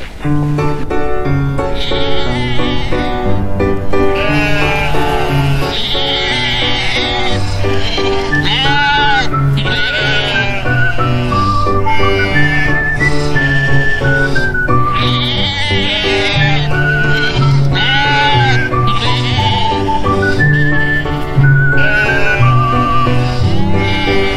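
Sheep bleating loudly and repeatedly from close by, overlapping calls from several animals in a steady chorus, with a faint voice now and then.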